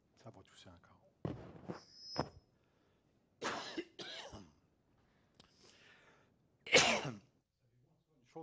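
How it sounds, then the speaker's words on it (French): A preacher coughs during a sermon: a few harsh, close bursts of coughing and throat clearing, loud against quieter stretches of talk. "Ça va tousser encore."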